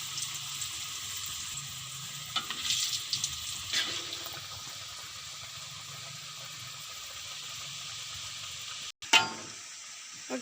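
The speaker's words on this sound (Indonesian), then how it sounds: "Pak Tengah sudah mulai goreng ya." Sweet potato ongol-ongol balls fry in hot oil with a steady, soft sizzle and bubbling that runs throughout, a few brief clinks and a sharper knock near the end.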